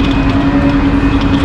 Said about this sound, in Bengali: অ্যাকচুয়ালি এটা ট্যালগো কোম্পানি তৈরি করা একটা ট্রেন